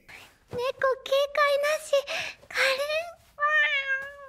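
An anime cat meows in a run of short, bright, close cries, then gives one longer drawn-out mew at the end, with nothing else heard around it.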